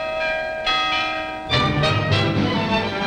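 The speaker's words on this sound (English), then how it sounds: "Big bells or little ones, there's always melody in Monnikendam." Town bells in Monnikendam ring out in overlapping strikes, a lighter bell first and then heavier, deeper bells joining in, resonant and sustained with long ringing tails.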